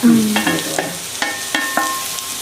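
Chopped capsicum stirred in a pan for bread upma, a close, loud sizzle with several distinct clinks of a spoon scraping the pan at an uneven rhythm.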